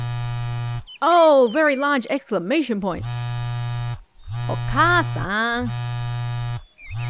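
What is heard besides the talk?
mobile phone vibrating with incoming call, from video game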